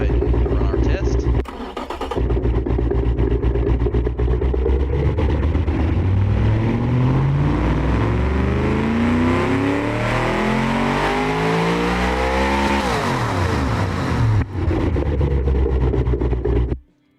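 A simulated engine in the Automation game revs up steadily on a dyno test, the tone climbing through the rev range to a peak, then falling and returning to idle before it cuts off. The engine sound is loud and continuous throughout.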